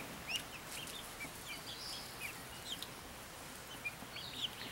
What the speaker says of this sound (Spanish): Ya las guineitas están empezando a hacer el ruido característico de ella.